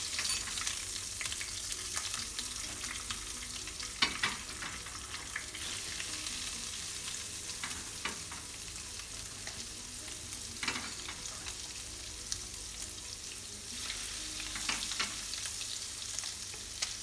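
Chicken liver fries in hot oil with a constant bright sizzle and crackle, broken by occasional louder pops and the scrape of stirring in the pan. Close and steady throughout, with no voices.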